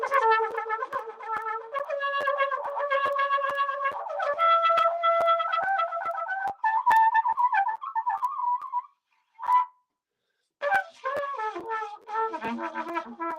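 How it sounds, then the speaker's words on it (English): A trumpet plays a short run of sustained and stepped notes in a quiet room, phrases broken by brief pauses and a final burst of quicker notes, close and fairly loud. "That's the trumpet."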